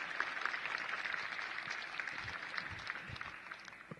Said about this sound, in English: Every bit of applause just then was nervous, wasn't it?